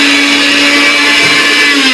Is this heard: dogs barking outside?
no